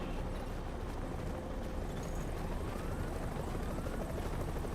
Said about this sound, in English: Okay, we're putting the chopper down.